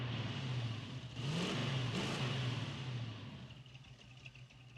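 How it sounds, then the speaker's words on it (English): An anti-air truck in a video game revs its mid-pitched engine, rising to a louder surge for a couple of seconds before easing back, heard alone and fairly faint. "It's the anti-air truck, guys."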